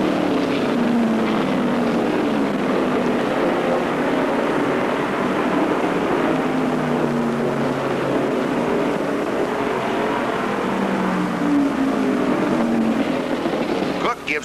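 NASCAR modified race cars circling Martinsville Speedway in 1975, their engines a continuous loud drone rising and falling as the pack passes, with a commentator's voice running over the noise throughout.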